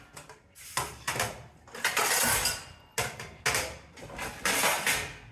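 Cooking pots and metal utensils taken out in a home kitchen clank and clatter in repeated bursts of ringing, jostling metal, close and fairly loud.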